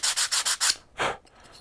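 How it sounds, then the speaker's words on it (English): Five quick, even strokes of a 120-grit sanding block rubbing over a wooden axe wedge, close up, followed by a pause and one slower, softer scrape. "I'll take my sanding block and I'll just sand that wedge down smooth with 120 grit"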